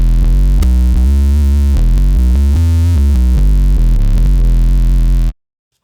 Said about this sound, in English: we're also running a sort of Ampeg style amplifier as well for our octave down synth